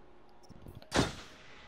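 A single gunshot in the video game Until Dawn, aimed at a squirrel, bursts out as one sharp, loud crack with a short fading tail after some faint rustling.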